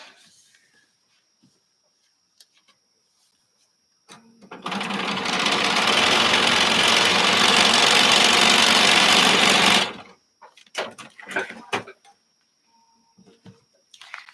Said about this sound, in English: So now I can go and sew this and then fold it open.